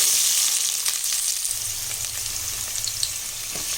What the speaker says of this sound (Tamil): ஒரு 5 லவங்கம், ஒரு 2 ஏலக்காய். இது நல்லா பொரியட்டும்.